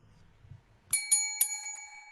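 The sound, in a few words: bell ringing at the door, sound effect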